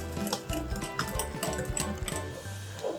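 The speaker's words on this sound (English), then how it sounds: "I'm going to whisk it up." Whisking a thick pancake batter of millet flour in a bowl, with rapid, rhythmic tapping and scraping strokes of moderate loudness heard alone and close up.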